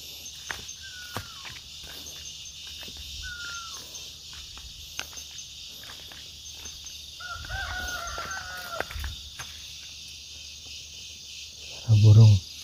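Wild fowl crow in a forest in two faint, distant bursts over a steady insect hum, with scattered footsteps nearby and a loud thump near the end.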